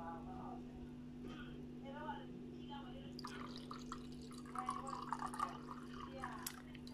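A drink is poured into a glass with a soft, close trickle and gurgle after a short stretch of quiet talk, over a steady low electrical hum.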